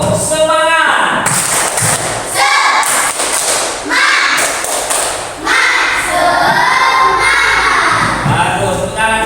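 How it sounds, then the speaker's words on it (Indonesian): Schoolchildren in a classroom repeat a rhythmic spirit clap, slapping and thumping in unison with excited shouting and cheering over the loud, close, continuous beat. "Lagi, tepuk semangat."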